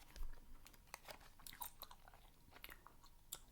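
Hard original Bazooka bubble gum is chewed close up, with wet, irregular crunchy bites and smacks throughout.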